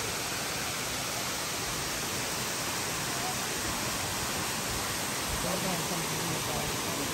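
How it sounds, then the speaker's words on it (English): Waterfall pouring in a steady, unbroken broadband roar, close and constant throughout with no distinct breaks. "We arrived at the last waterfall."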